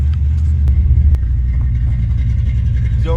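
A 1970 Plymouth Duster race car with a 340 engine idles in a deep, lumpy rumble, steady and close, with a couple of sharp clicks and no talking.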